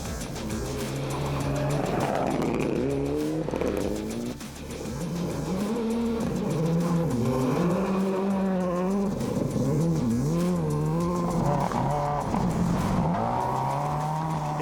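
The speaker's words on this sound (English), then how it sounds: "a taste of riding in a rally car, getting sideways on narrow, slippery tracks" Rally car from the 2016 International Rally of Queensland (APRC) slides on narrow, slippery tracks, its engine revving up and down with rising and falling pitch, loud and close, with tyre squeal.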